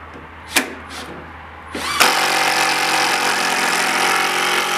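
A power drill drives 1 5/8 inch screws into a pull-behind camper build, with a couple of sharp knocks, then a loud, close, steady whirring run that continues without talk.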